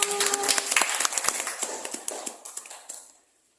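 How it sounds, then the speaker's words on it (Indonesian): Applause for the first group at a school workshop: a dense burst of many hands clapping close by, holding steady for about three seconds before thinning into a few final claps and fading out. "Kasih aplaus untuk kelompok 1."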